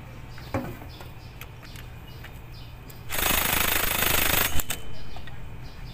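A power tool tightens the clutch hub nut with a 22 mm socket on a Kawasaki Barako 2 motorcycle: a rattling, hammering burst of about one and a half seconds mid-clip, after quiet workshop ambience with a few faint clicks.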